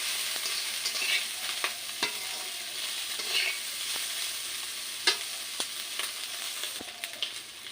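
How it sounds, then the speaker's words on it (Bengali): Raw tomatoes sizzle gently in oil on low heat, with occasional stirring clicks and scrapes of a spoon against the pan. "এই তেলে কিন্তু আমি লো আঁচে ভেজে নেব"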